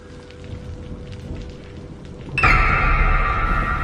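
Rain falls outside on a dark, deserted road, a dull rumbling wash that surges abruptly louder and brighter partway through, like a heavy downpour or thunder breaking in, with no voices present.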